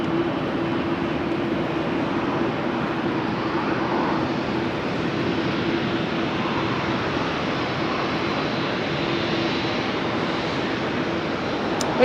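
An airliner departs at rainy Amsterdam Schiphol Airport, heard as a steady, moderately distant engine roar with a constant low hum, unbroken for the whole stretch.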